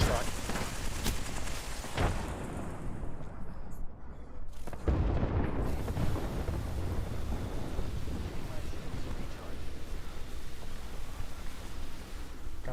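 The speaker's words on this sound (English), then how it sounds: "Airstrike." Airstrike explosions from a Bangalore strike in a shooter video game, a sharp blast near four to five seconds followed by sustained rumbling, windy roar and booming, with players talking over the top.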